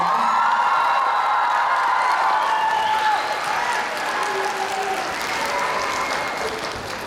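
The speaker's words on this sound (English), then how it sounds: "So one more big round of applause." Applause from a school assembly audience, a dense, steady crowd of clapping with some cheering mixed in, sustained throughout and easing slightly toward the end.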